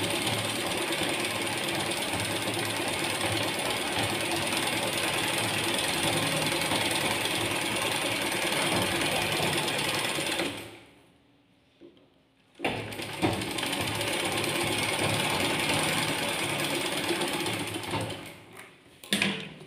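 A sewing machine stitching an aari-work blouse runs in a steady, dense mechanical whir, stops for about two seconds, then starts again and keeps running to the end.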